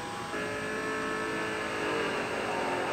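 A car fitted with a twin screw supercharger holds full throttle through a track corner, its engine a steady loud roar with a rising supercharger whine and no letting off.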